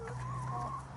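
Hens in a small backyard chicken run give a short, quiet clucking call, heard briefly and faintly against a low steady hum.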